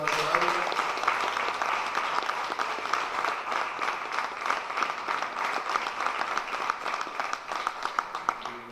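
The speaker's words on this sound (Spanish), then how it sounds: "Un aplauso fuerte al pastor Roberto Dávila." A church congregation claps loudly and continuously for a pastor, a dense wash of many hands that holds steady and tapers slightly at the end, with some crowd voices mixed in.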